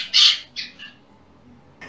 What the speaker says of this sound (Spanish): es un loro, es un loro